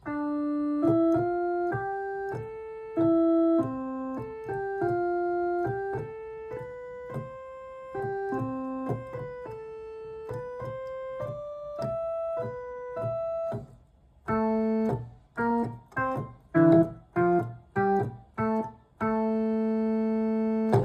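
A keyboard plays a rock lead line from a song in single notes, first a smooth run of steps, then a short pause and choppier, staccato phrases ending on a held note.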